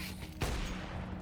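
A single sharp gunshot burst from the video game Counter-Strike cracks out partway through, loud and close, over a steady background hum.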